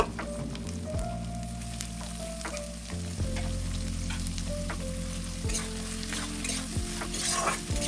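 Carrots and beans stir-fry with chopped onion in a pan, a continuous close sizzle broken by regular scraping and stirring strokes of a utensil, with no talk over it.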